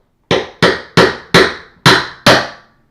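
A hammer taps a flat pry bar down behind base molding with six sharp, evenly spaced metallic knocks, each ringing briefly, close and loud with no talk.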